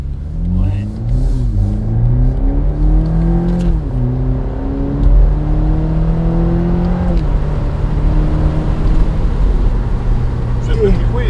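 A 2021 BMW Z4 2.0i accelerates through the gears, its engine note rising in pitch, dropping at each shift and climbing again, heard from inside the car over steady road rumble with people talking.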